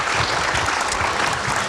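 Studio audience applauding during an Indonesian televised political debate show, a steady, dense round of clapping that fills the space evenly from start to finish with no voices over it.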